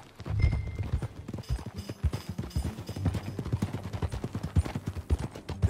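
Hooves beat in a quick, steady gallop as a horse is ridden in Red Dead Redemption 2, the clip-clop rhythm continuous and close, with faint ambient game sounds behind it.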